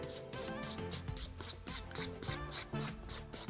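Nail file rasping across a nail on a practice hand, quick rhythmic back-and-forth strokes, close and crisp, about a dozen short scrapes in steady succession.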